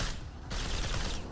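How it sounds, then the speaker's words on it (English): Rapid machine gun fire from the retro shooter game STRAFE rattles without pause in one loud, dense burst, close and continuous throughout. "It's just a machine gun."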